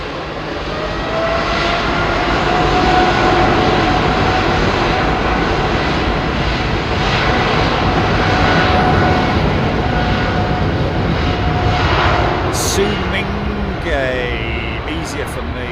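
Airplane engines roar at London Heathrow Airport, a loud sustained drone that swells and holds, with faint higher whines near the end.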